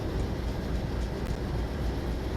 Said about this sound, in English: the brakes are almost fully on and they're really dragging the train down